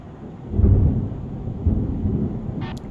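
Low rumbling thunder rolls in from a distance ahead of rain in an Android truck-driving simulator with a DAF Euro 6 rig, two swells of deep rumble under a steady low drone, with a faint brief tone near the end.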